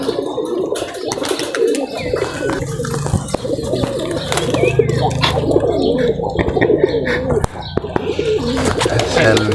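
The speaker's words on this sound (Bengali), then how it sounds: "বিশেষ একটা কবুতর আপনাদেরকে দেখাচ্ছি" Rajshahi Geribaj pigeon cooing in low, repeated throaty calls over steady background bustle, with faint chirps from other birds and some voices nearby.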